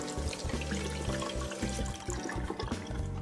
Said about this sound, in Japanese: お湯を出しまして、ペネトレートブラシに水をなじませます。